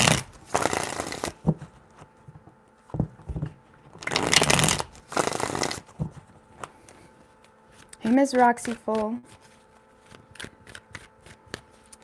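Tarot deck being shuffled in a few quick riffling bursts, crisp and close, with a voice speaking briefly between the shuffles.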